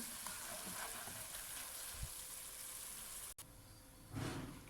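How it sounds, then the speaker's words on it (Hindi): A masala spice paste fries in a pan for an anda korma with potatoes, giving a steady soft sizzle that carries on throughout, with a brief clatter near the end. "ये देखें, ये हमारा मसाला अब भुन रहा है।"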